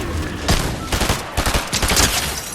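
Gunfire in a battle royale game (Fortnite-style solo cup), loud rapid bursts of close shots in uneven clusters filling the whole moment, with no voice over it.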